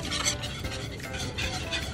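Pasta salad with lemon zest, lemon juice and parsley is stirred in a bowl, making a continuous wet, squelching churn with faint utensil scrapes.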